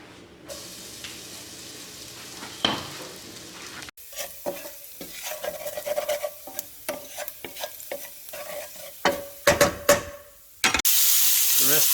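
Carrots, onion and garlic cooking down in a pan for a venison osso buco, heard as a low sizzle with scraping stirs and clinks that grow busier toward the end, with no talk.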